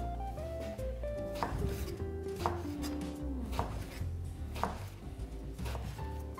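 A knife chops an eggplant into half rings on a board, several evenly spaced crisp cuts about a second apart, heard under steady background music.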